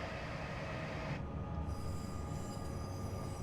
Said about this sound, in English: You hear the rheostatics kick again.